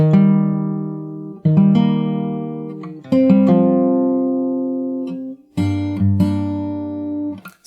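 A song on fingerstyle guitar with its altered ending: several plucked chord phrases, each attack ringing out and fading, the last phrase dropping to lower bass notes, played solo and up close.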